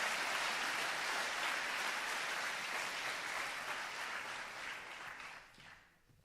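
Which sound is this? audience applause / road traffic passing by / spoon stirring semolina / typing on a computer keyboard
audience applause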